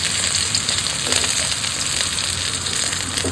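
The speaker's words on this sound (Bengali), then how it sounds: "3 পিস করে ভেজে নেবো।" Pieces of tilapia fish fry in hot oil with a loud, steady sizzle and crackle that runs unbroken from start to finish, close and with no voices.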